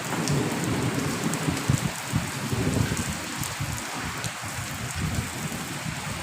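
Steady rain pours down throughout, a dense wash of patter with low rumbling underneath, close and fairly loud, no voices.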